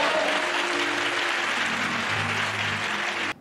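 Dense, sustained applause from a church congregation clapping at a Tamil sermon, steady and full throughout before cutting off abruptly at the end.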